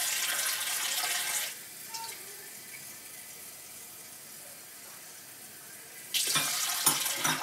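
A kitchen tap gushes water loudly into a cup for about a second, stops, then runs again near the end, with quiet room noise between.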